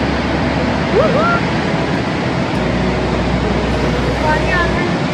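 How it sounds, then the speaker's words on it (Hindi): Rhine Falls in Switzerland, a loud, dense roar of rushing water heard up close from a boat, constant throughout, with faint excited voices and brief whistling cries over it. "This is Rhine Waterfalls"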